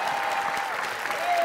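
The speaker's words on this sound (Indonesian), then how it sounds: "Ya, tepuk tangan buat Mas Herman." Studio audience applause for Mas Herman, a brief dense patter of clapping heard close and steady throughout.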